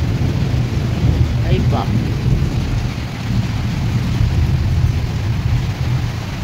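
Thunder rolls low and heavy over steady rain in rainy-season weather, a constant loud downpour with deep rumbling throughout, and a person lets out a brief startled exclamation partway through.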